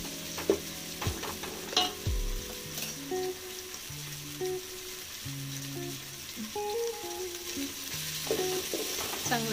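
Food frying in a pan keeps up a soft, continuous sizzle while a utensil stirs and scrapes through it in scattered bursts.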